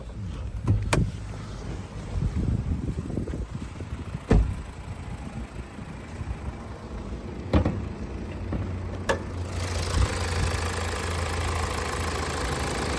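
2018 Mazda CX-5 2.2 diesel idling under the open hood: a faint, steady low hum with a few sharp clicks and knocks, growing slightly fuller toward the end.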